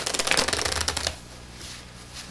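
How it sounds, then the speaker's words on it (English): Playing cards, face-up and face-down mixed together, are riffle-shuffled close by in a rapid crisp fluttering burst lasting about a second, followed by quiet handling noise. "shuffle the face up cards into the face down ones"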